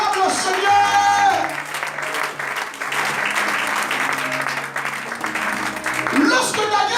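A church congregation breaks into loud, sustained applause during a service, with the clapping steady throughout while the pastor's voice and music carry over it.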